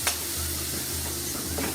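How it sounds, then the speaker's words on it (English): Vinegar hits a hot skillet of browned pork chop drippings, giving a short, bright sizzle and hiss close by, steady for under two seconds with no talking. "I am going to put just a little bit of that vinegar in the pan to kind of get some of those bits that are in there."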